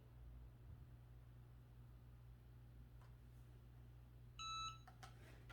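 A quiet room hum, then a short electronic beep sounds once from a heat press signalling it is ready, followed by a few faint clicks.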